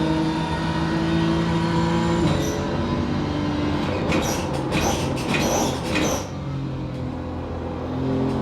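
A car engine in the Assetto Corsa racing game is driven flat out, a steady, dense mechanical drone whose pitch shifts as it climbs and drops, with brief rattling bursts midway and no one talking.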